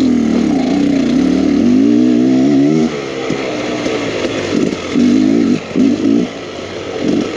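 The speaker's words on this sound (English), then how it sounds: "We have a massive hill climb ahead of us here. Let's see how this does. Our street legal dirt bike." A 2023 Beta X Trainer 300 street-legal dirt bike engine labours up a steep riverbed hill climb with low rear tire pressure, droning loud and close with a rising rev for about three seconds, then pulsing in uneven bursts as the throttle is blipped.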